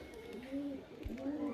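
A male pigeon coos softly in a loft, a couple of low rolling calls close by but faint, with quiet background noise.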